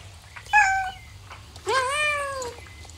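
A pet cat in the horse-riding video game Star Stable gives two clear, fairly loud synthetic meows, a short one followed by a longer drawn-out one, over a low steady hum.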